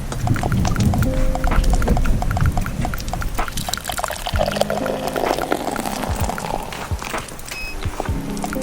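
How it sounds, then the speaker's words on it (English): A beer is poured hard and fast, a splashing, gushing stream with clinks and knocks, loud and close, with no talk. "That's what I call an aggressive pour."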